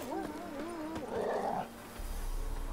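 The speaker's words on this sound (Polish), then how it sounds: "Czekajcie, pies gdzieś chce mnie zaprowadzić." A dog in The Witcher video game whimpers with wavering, whining cries, then gives a short louder bark-like burst, heard over a soft game ambience.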